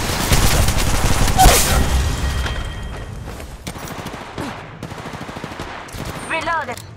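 Shooting in an Apex Legends training course, a burst of gunfire at the start followed by softer shots, reloads and game voice callouts.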